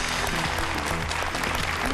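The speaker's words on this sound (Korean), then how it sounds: "위로의 박수 부탁드립니다." Consolation applause from a studio audience on a Korean television quiz show after a contestant's failed attempt, a dense, even wash of clapping with music playing underneath.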